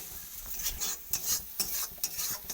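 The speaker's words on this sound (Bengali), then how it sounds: "এটাকে ভালোভাবে কষে দেবো" Goat meat masala being stirred and sautéed in a pan, with rough, irregular scraping strokes of a spoon and a soft sizzle underneath, several bursts close together at moderate volume.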